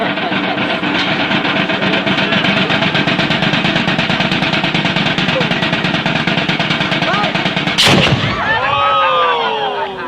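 A single loud cannon blast, fired by gunpowder, booms out near the end, cutting through a constant roar of crowd noise and music in Cuba.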